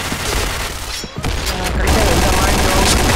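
Rapid bursts of pistol gunfire crack through a dense, noisy soundscape in the video game Point Blank, the shots coming in quick succession.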